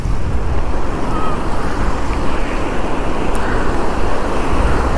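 Rushing floodwater after heavy rains, a steady loud broadband roar of churning water that holds constant throughout, with no talk over it.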